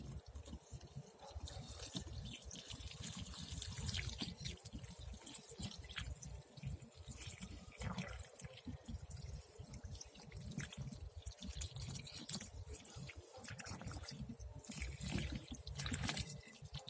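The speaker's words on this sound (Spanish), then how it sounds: "Rellenan con agua limpia los 6 orificios como se los estoy mostrando." Clean water trickles and drips into the six cells of a car battery, a soft, faint splashing and gurgling that runs continuously in uneven pulses, heard close in a quiet setting.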